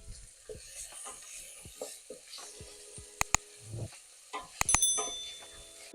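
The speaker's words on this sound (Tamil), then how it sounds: "இப்போ இதை வதக்கி கொள்ளுவோம்" Chopped garlic and onion sautéed in a pan make quiet, intermittent spatula scrapes with soft bursts of frying and a couple of sharp metallic clinks.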